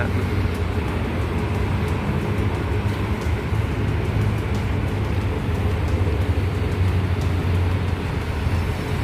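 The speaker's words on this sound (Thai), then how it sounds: "นั่นแหละครับผมขบวนรถไฟฟ้า" A Bangkok skytrain rolls past at Victory Monument in the early morning, a loud, steady rumble of wheels and city traffic noise with a low droning hum throughout, no clear speech.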